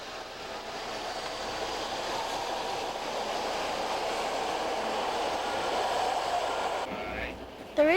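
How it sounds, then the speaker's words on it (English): A 1986 subway train rumbling and roaring steadily through a tunnel as it pulls away from the station, with a brief metallic squeal near the end. "The doors closed and the subway train left the station."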